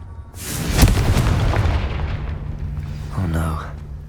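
A Confringo blasting spell detonates in Hogwarts Legacy, a loud booming explosion with a broad rumbling burst that decays over a couple of seconds, followed by a brief magical chime-like shimmer.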